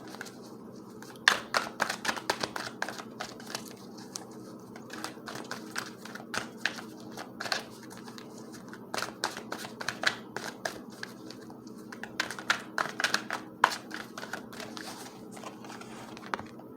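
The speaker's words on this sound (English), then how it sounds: "Let's go ahead and pull two cards from the Archangel Power Tarot cards" Tarot cards from an Archangel Power deck being shuffled and drawn by hand, a near run of crisp riffling snaps and soft slides repeating in bursts, with no talking.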